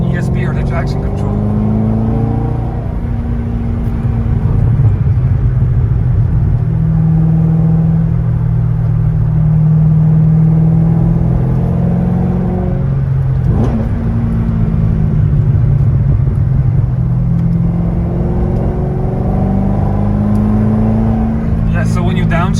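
Corvette Z06 with an LS7 engine driving: a loud, steady low engine drone inside the car, with pitch rising and falling through shifts and a brief dip around the middle as it downshifts.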